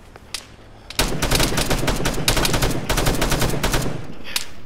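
Gunfire in the military game Arma 3 during a guerrilla firefight: after a few scattered shots, a dense, sustained burst of rapid automatic fire rattles on continuously, loud and close.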